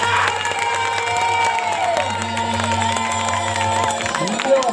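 Audience at a Bhojpuri stage show cheering and clapping, a steady crowd roar with shouts running under a sustained musical drone and tones throughout.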